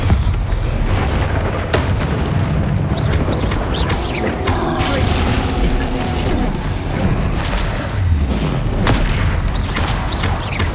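Confringo and Incendio spells in the Hogwarts Legacy video game go off as repeated booming blasts and fiery bursts. Dense, loud impacts come one after another, with a voice calling out spell names between them.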